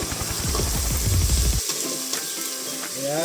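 Bottle gourd and sardines sautéing in a pan, a loud steady sizzle with stirring scrapes that cut off partway, leaving a quieter hiss and faint clinks.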